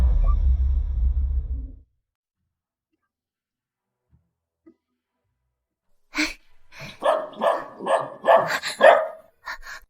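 A dog named Chanceux barks in a quick irregular burst of about six or seven loud, close yelps after a low rumble and a stretch of near silence.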